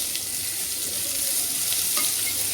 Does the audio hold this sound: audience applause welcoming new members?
no